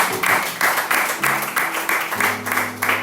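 A church congregation claps in a steady, rhythmic beat, loud and close, roughly three claps per second, with voices singing or calling out underneath.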